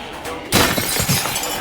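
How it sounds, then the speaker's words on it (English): Window glass smashing in the destruction game Teardown, a sudden loud crash and shatter bursting in after a quieter moment, then continuing debris and clatter under a steady game background. "he smashes through the other window"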